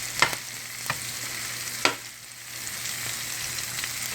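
Mushrooms and chicken gizzards cook Asian-style in a pan with a continuous close sizzle and fry, broken by a few sharp clicks and scrapes from stirring.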